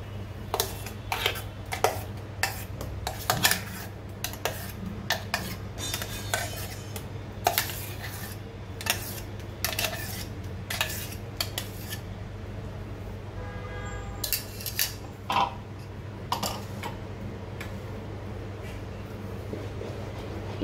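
Mango juice paste is stirred into a milk mixture for homemade mango ice cream, with repeated close clinks and scrapes of a spoon against a bowl in an irregular rhythm over a steady low hum.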